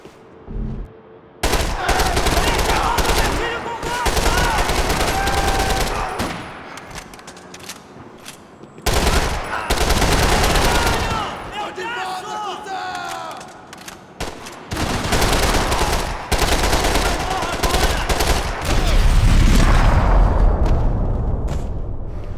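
Sustained, heavy gunfire in Max Payne 3, with loud automatic bursts and single shots rattling for long stretches, broken by brief pauses and closing with a booming rush.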